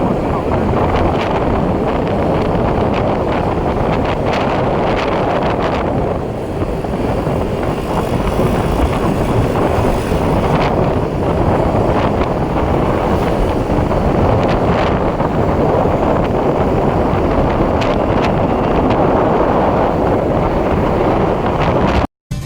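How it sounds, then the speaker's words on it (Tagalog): Steady, heavy wind buffeting the microphone outdoors on open water, a constant roar with low rumble throughout and no pauses. "Ang sarap ng hangin."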